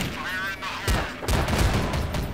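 A grenade explodes in Counter-Strike: Source on the de_prodigy map: two sharp, loud blasts land close together, followed by a rumbling burst of gunfire-like noise that stays loud to the end.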